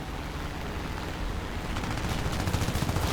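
Machine gun fire from the rear gunner of a Po-2 biplane in the War Thunder combat game: a steady rattling burst that grows louder and more distinct toward the end.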